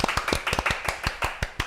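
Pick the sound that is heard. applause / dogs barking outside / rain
applause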